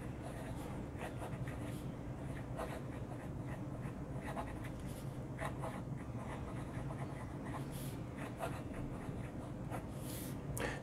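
Fountain pen with a Moonman M600S nib writing on paper, a steady soft scratching and gliding across the whole stretch, close and quiet, with no talking.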